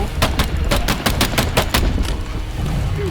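Rapid bursts of gunfire from the alien co-op shooter Earthfall, a dense run of sharp shots in the first half tapering into rumble, loud and close with no one talking.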